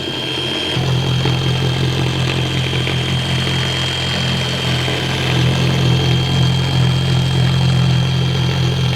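A polishing machine runs at slow speed on the glass of a Golf R32. Its loud, steady motor drone starts after a brief moment and holds at an even pitch, with a slight swell near the end.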